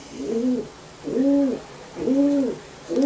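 A female pigeon named Lapa coos close by in four evenly spaced, rolling phrases, each a low throaty warble repeated about once per second.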